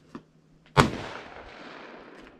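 A single loud gunshot at a shooting range, aimed at a can, cracks close by and rings out in a long decaying echo, with a faint knock just before.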